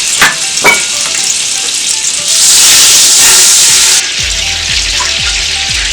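250 grams of butter with a little oil melting in a pot for a seafood boil: steady close sizzling with a louder hissing surge midway, plus a few light clinks and taps.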